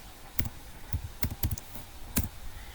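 Short bursts of computer keyboard typing while a CLI command is entered, irregular soft key clicks and taps at close range over a faint background hum, with no talking.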